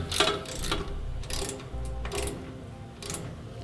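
A socket ratchet tightens headache rack bolts on a 2015 Chevrolet Silverado in a cramped spot, making several short bursts of rapid clicking separated by brief pauses, close and clear with no talking.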